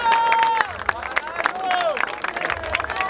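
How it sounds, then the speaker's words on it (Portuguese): A crowd at a rap battle semifinal in Barueri, Brazil claps and cheers loudly, with whistles and shouting voices mixed into the steady roar of applause. "Palmas pra essa batalha!"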